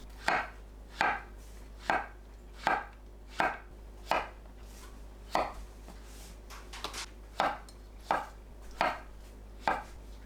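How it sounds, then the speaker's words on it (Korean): King oyster and wood ear mushrooms sliced into bite-size pieces on a cutting board, about fifteen evenly spaced knife thuds in a steady rhythm, close and distinct over a low hum. "새송이버섯, 목이버섯이 있다면 한입 크기로 썰어줍니다"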